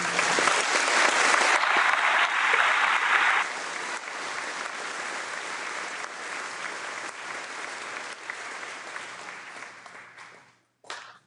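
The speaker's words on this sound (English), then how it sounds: "audience members, please join me now in a round of applause" An audience at a high school commencement ceremony applauds loudly at first, then the clapping thins and tapers off before dying away near the end.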